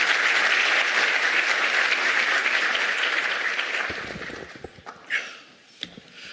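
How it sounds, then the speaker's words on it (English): Applause from a conference audience at a science and innovation plenary, a loud dense clapping that gradually thins and fades, leaving a few scattered claps and small room noises. "A round of applause for the Minister."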